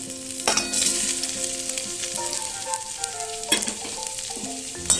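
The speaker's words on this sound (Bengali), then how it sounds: "এবার এর মধ্যে দিয়ে দেব ভাজা ডুমুর আর আলুগুলো।" Fried figs and potatoes are tossed into a pan of frying ginger paste and stirred, with a steady sizzle and sharp clattering stirring strokes near the start and middle.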